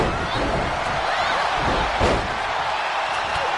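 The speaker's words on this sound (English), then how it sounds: "And Kezaboo knocked right down on top of that ladder" A wrestler is slammed down onto a ladder in the WWE 2K22 wrestling video game, a single heavy impact rising out of a steady, loud roar of arena crowd noise.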